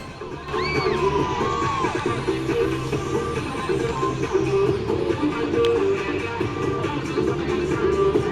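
The Argonaut cheer team shouts and whoops together in a steady, energetic group cheer that carries over a noisy, echoing crowd backdrop for several seconds.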